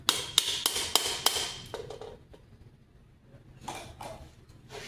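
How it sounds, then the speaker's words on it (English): A hammer strikes a metal rivet on a helmet in a quick series of sharp taps, about six blows close together, then a pause and a few softer knocks. "Hammer it in"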